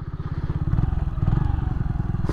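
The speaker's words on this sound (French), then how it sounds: "On va faire un freinage appuyé." An Orcal Astor 125 motorcycle from 2016 brakes hard from speed with a single disc, its engine throbbing in a loud rapid pulse close by while faint clatter rides over it.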